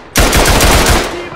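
A machine gun fires in the World War I game Tannenberg, one loud, close, rapid burst of rattling shots that starts abruptly and runs for over a second without pause.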